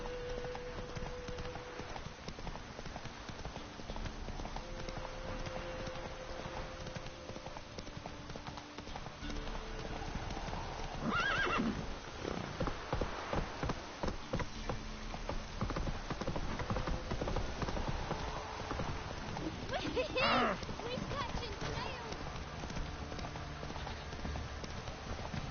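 Roach, a horse in The Witcher 3, gallops with steady, rapid hoofbeats over a continuous ambient background, with brief neighing or other louder calls around the middle and near the end.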